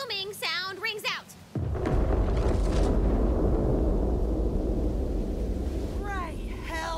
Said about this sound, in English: a great big booming sound rings out